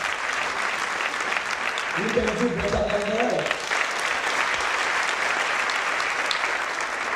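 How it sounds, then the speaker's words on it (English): A church audience claps steadily through the whole stretch, a dense, even patter of many hands, while a preacher's voice talks over it. "Clap hands for Jesus."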